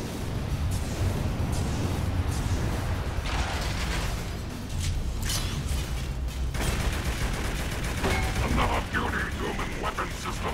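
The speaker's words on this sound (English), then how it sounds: "Start firing on those next guns." Sustained gunfire from the Transformers: Revenge of the Fallen video game, a continuous dense roar of shots and mechanical clatter with brief bursts, heard under a voice giving instructions.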